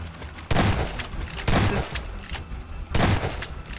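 Shotgun blasts in a Garry's Mod horror game, three loud booming shots spaced about a second apart, each a sharp heavy burst with a short tail over ambient game noise.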